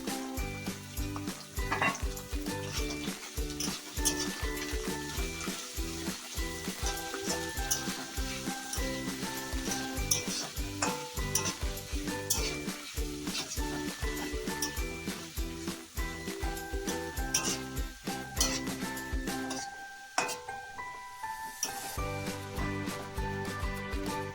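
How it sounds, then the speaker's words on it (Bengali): Onions frying with spices in a pan for a chicken dish, a continuous close sizzle punctuated by frequent scraping and tapping of the stirring spoon, with no talking. "পেঁয়াজ দেওয়ার পর ভালো করে মশলাগুলির সাথে পেঁয়াজটাকে একটু নাড়িয়ে চাড়িয়ে নিলাম"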